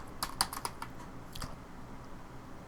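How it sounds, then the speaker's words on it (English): Computer keyboard keys clatter in a short quick burst of typing, close and moderately faint, then a couple more taps before quiet, with no talk. "here in the name we want to type in collider."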